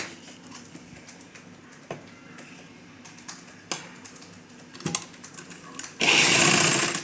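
Sewing machine stitching a small Rajasthani summer dress for a Laddu Gopal idol, quiet clicks and taps building to a loud burst of fast continuous stitching at the end, with no talking.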